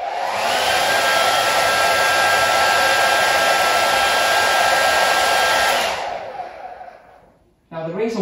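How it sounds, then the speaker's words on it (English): A hair dryer blows with a steady, loud whooshing roar for several seconds, then switches off and winds down before a brief noise at the end. "So now I've got the hairdryer."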